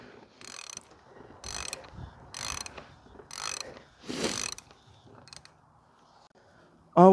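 A ratchet loosening the oil drain plug on a 2016 Volkswagen Jetta 1.8 TSI, five or six close bursts of rapid clicking in an uneven rhythm, then a short sharp sound at the end, no talk.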